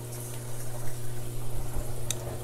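Water running through the filter tube of a saltwater aquarium sump, a steady close trickling and bubbling wash with a low pump hum beneath and one brief splash.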